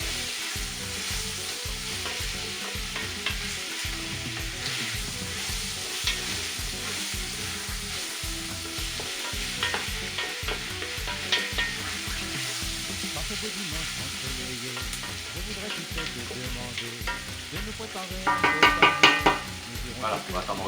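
Onions sizzle and fry in a pan for a cooking beef, carrot and potato curry, with a steady close crackle and regular stirring scrapes, plus a louder burst of spatula clatter near the end.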